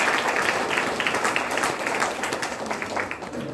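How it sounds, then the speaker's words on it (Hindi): Dense, continuous applause from a university audience at a Hindi Week language lecture in Pune, honouring the writer Harishankar Parsai, a steady wash of many hands clapping at once. "हरिशंकर परसाई जी के लिए एक बार जोरदार तालियां बजाएं"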